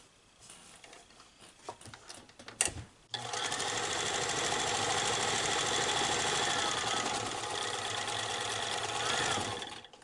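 A sewing machine stitching a fabric cat collar runs in a steady, loud continuous whir for about seven seconds, after a few seconds of quieter handling clicks and a sharp knock.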